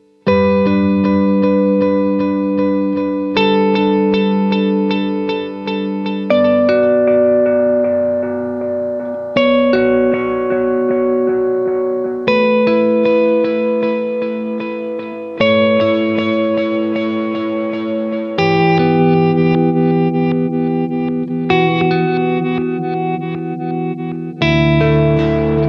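Clean guitar chords ring out one after another through a stereo delay/reverb pedal, each trailing into echoing repeats and a lingering wash of effects.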